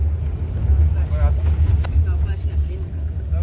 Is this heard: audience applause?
no